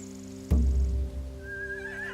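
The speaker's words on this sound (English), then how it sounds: "Scare the horses, too." Horses whinny loudly and close in The Walking Dead game, a sharp burst with a stamping thump beneath it, then a long trailing neigh over a steady low game drone.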